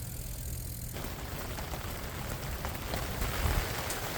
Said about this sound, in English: The rain is coming down, but that's not going to stop us from making syrup today.